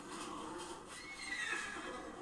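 A horse neighs in a battle scene from the anime Vinland Saga, a loud drawn-out whinny rising and falling over a steady noisy background, with no talk.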